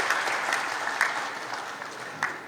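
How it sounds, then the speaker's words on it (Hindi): Audience at a job fair clapping, a dense, sustained round of applause from a crowd, loud and steady throughout with occasional sharper individual claps. "तो इसके लिए भी ताली बजा दो भाई।"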